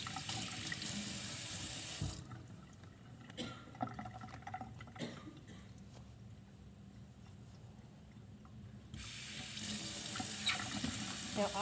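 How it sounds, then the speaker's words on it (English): A tap runs steadily at a sink while hands are wetted for a surgical scrub. The broadband rush stops for several seconds in the middle, leaving faint handling noises, then resumes. "So I'm gonna wet my hands first."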